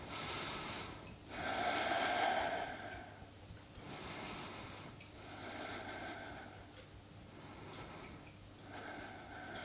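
Slow, deep breaths during a yoga stretch with a strap, several long inhales and exhales rising and falling close to the listener, with no talking.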